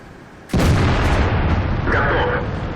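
A single heavy ISU-152 tank gun shot in World of Tanks, Tier 8 battle: a sudden loud boom at about half a second followed by a long rumbling decay, with a brief whistling tone during the tail.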